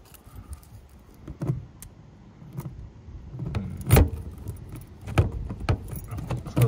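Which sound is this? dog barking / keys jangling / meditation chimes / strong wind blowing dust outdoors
keys jangling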